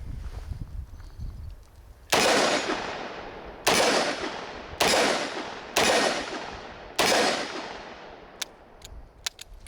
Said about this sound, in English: Elite Performance 357 Magnum ammunition through the Ruger LCR chamber in 357 Magnum